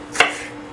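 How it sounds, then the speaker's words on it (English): A single quick knife cut through a firm green tomato, a short crisp slice that stands alone near the start before fading into quiet room tone. "I'm going to slice them into fairly thin slices, not too thin and not too thick either."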